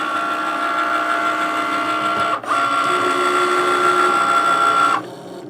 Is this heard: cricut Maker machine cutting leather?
yes